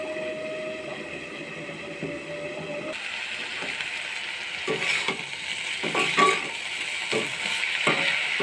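Bitter gourd and prawns fry in hot oil, the sizzle jumping louder midway as a little water hits the pan, then a steady hiss with scattered clinks and scrapes of stirring; no talking.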